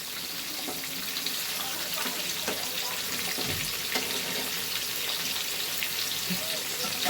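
Hot oil is spooned over fish frying in a pan with methi, giving a continuous, even hiss and crackle of sizzling throughout.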